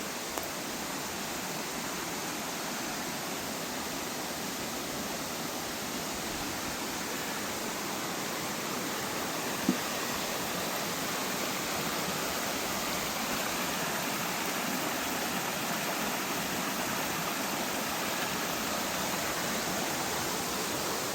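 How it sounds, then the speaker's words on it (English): A creek runs full after recent rain, giving a steady, even rush of flowing water close by throughout, with no voices. "The creek's running pretty well."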